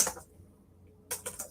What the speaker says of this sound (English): What am I typing on here?